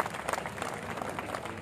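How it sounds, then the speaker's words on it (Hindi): Audience at a Natrang Theatre street show applauding the artists, dense continuous clapping from a crowd, steady and moderately distant throughout. "इन सभी कलाकारों के लिए जोरदार तालियां अवश्य रहनी चाहिए।"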